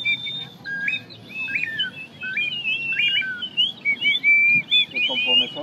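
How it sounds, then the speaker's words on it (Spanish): Birdlike chirps and warbling tweets blown on a small handheld whistle while fingers cover and uncover its holes, a run of bright, close, varied calls with brief pauses, and faint background murmur. "conforme soplen y muevan los dedos y dejen de soplar, van a encontrar muchos sonidos de pajaritos"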